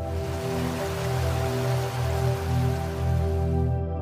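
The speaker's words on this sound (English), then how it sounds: "And the gentle flow of a waterfall?" Steady rushing waterfall in a Costa Rican rainforest, with a constant low roar and broad splashing hiss of heavy flow, continuous with no voices.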